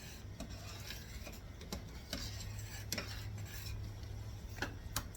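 A spoon scrapes and clinks steadily in a pot of hard-boiling pear preserves during canning, with irregular clicks over a constant low bubbling hum, close and fairly quiet.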